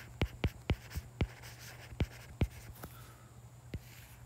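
A pen drawing on a board makes about nine short, sharp taps and strokes in an uneven rhythm, close and fairly quiet, with no talking over them.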